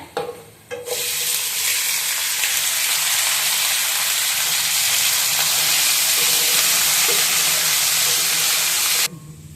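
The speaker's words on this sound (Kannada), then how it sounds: "ಇವಾಗ ಚಿಕನ್ ಹಾಕೊಳ್ಳೋಣ ಇದಕ್ಕೆ" Loud, steady sizzling and hissing of chicken frying in a hot pan, starting abruptly and continuing with faint stirring scrapes before cutting off near the end.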